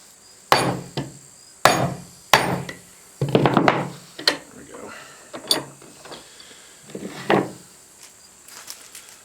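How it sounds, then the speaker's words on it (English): Sharp hammer whacks strike a wood chisel clamped in a vise, several loud close blows in an uneven rhythm with softer knocks and taps between them. "Get one more good whack on it here"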